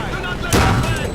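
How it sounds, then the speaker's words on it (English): Artillery strike blasts in Call of Duty: World at War, a sudden loud broadband boom about halfway through that rolls on with rumbling debris over busy game background noise. "allowing you to call in artillery strikes"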